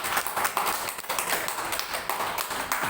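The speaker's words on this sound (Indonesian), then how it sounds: "Tepuk tangan." Audience applause at a poetry discussion event by the Sidoarjo arts council, a steady patter of many hands clapping throughout, moderately loud and fairly close.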